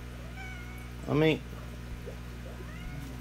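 A domestic cat gives a single clear meow mid-clip beside a cichlid aquarium setup, near and moderately loud over a steady low hum, with a few words of talk around it.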